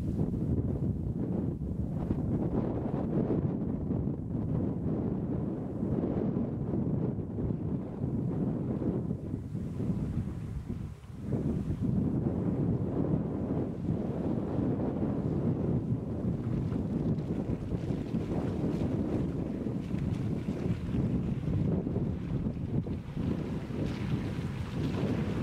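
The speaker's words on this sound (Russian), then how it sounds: "прислушиваюсь к волшебной тишине, нарушаемой лишь свистом ветра да шелестом золотых колосьев" Wind blows across open wheat fields near a forgotten German village, a steady low rushing roar buffeting the microphone for the whole stretch, with one brief lull partway through.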